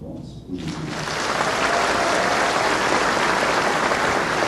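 Sustained applause from a crowd at a ceremony honouring municipal public servants in Campo Grande, swelling after a brief quiet start and holding steady and loud throughout.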